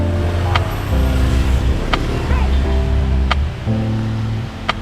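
An RFI-175 motorcycle fitted with an Akrapovič muffler runs close by, its exhaust a loud, steady drone whose pitch steps up and down with the throttle, marked by a few sharp ticks, with no talking.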